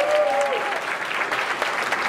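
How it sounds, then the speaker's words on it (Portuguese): Audience at a hypnosis comedy show breaks into loud, steady applause with some crowd noise, sustained throughout without pause. "uma salva de palmas para os nossos astros."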